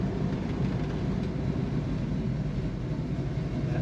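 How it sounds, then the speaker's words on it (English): A 1969 Chevrolet Camaro RS convertible idling, a steady, dense low rumble that holds evenly throughout with no voices over it. "That idle. This car has a nice aggressive sound."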